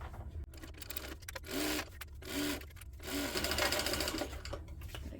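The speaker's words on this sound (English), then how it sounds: "I'm going to go from the back side so I can sew the material" A sewing machine stitches hip bag material in several bursts of rapid, steady mechanical whirring and clatter, with short pauses between runs, close and clear with no talk.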